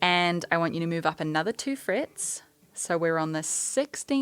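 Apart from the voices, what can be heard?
No everyday noise stands out behind the speech.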